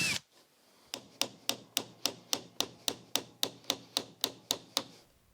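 A Hyper Tough nailer drives nails into a pallet wood rack in a fast, even series of about fifteen sharp, close taps, roughly three to four per second, with a brief hiss before the first strike.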